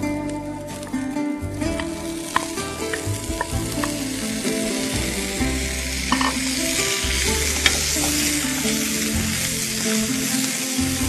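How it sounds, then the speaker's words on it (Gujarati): Vegetables stir-frying on a teppanyaki griddle with marinated paneer, a steady dense sizzle that runs throughout, close and loud, with scraping and stirring clatter at irregular points. "જેમ જેમ વેજીટેબલ સ્ટર ફ્રાય થઈ રહ્યા છે"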